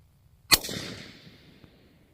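A single gunshot from a CVA Scout V2 pistol in 300 Blackout cracks sharply after a short quiet, followed by a rolling outdoor echo that fades over about a second and a half.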